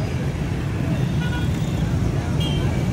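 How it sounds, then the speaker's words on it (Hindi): Heavy road traffic fills the air with a dense, steady rumble of engines. A few brief horn toots cut through near the end, and voices chatter faintly within the din. "ये ट्रैफिक का निज़ाम चेक करें"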